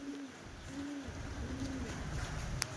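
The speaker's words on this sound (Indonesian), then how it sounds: "ini ya, burung-burung yang dipersiapkan mau dilatih nih" Pigeons kept for training coo in soft, repeated rising-and-falling calls close by. A broad background hiss and a few faint clicks sit underneath, with no speech.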